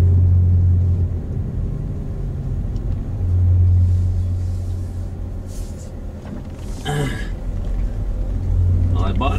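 A 2005 Toyota Matrix AWD with a worn rear wheel bearing drives along with a steady, loud, low rumble that swells and eases. A voice talks briefly near the end.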